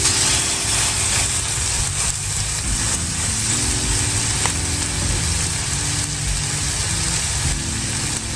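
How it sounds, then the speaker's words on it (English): Salisbury steak patties sear in a cast iron pot with a steady, close, dense sizzle and hiss over a low background hum, with no one talking. "we're gonna sear this until there's a nice sear on both sides"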